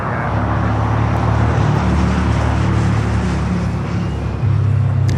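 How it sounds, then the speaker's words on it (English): An Airbus A350-1000 taxiing at LAX airport, a loud, steady low jet-engine drone holding level throughout, with no talking. "Kind of a rare south side arrival for this A350-1000."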